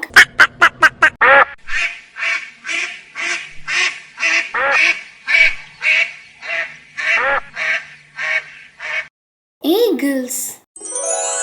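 Ducks quacking in a fast, loud, close series of harsh nasal calls that repeat steadily, ending with a few different higher, wavering calls.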